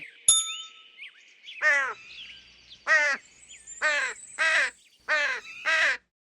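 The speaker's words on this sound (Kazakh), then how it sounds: "Күндіз қарға қарқылдап, үкіге тыным бермейді." A crow caws repeatedly in harsh, ringing calls, six distinct bursts spaced about a second apart, loud and close against an otherwise quiet background with a brief metallic ding near the start.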